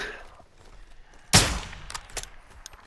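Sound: gunfire in a video game

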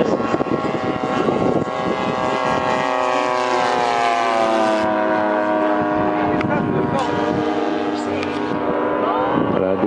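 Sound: propeller aircraft flying low

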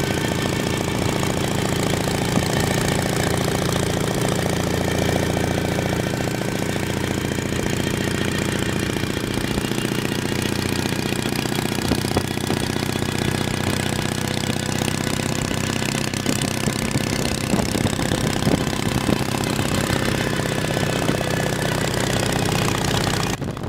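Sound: vintage motorcycle engine running

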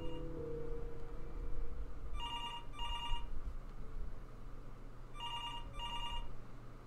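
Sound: phone ringing in video game Before Your Eyes

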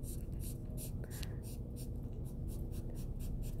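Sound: permanent marker drawing lines on paper

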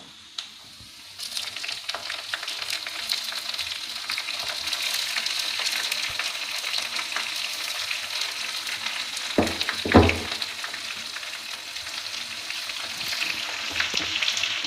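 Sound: ingredients frying in oil for homemade hair oil

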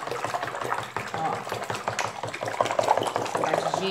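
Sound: stirring mixture of massage cream fabric softener

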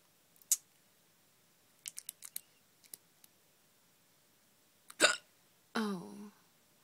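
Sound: hiccup

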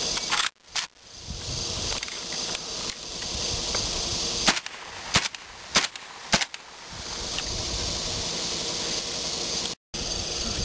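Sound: less-than-lethal rounds fired from a Saiga 12 gauge shotgun

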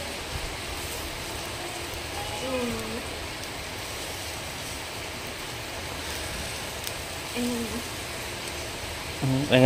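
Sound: heavy rain

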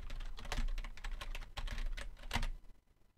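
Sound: typing on SteelSeries Apex 100 membrane keyboard keycaps

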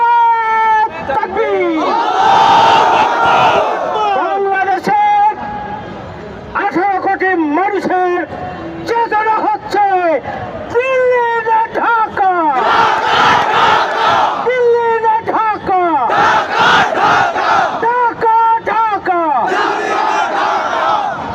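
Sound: crowd chanting slogans at a rally

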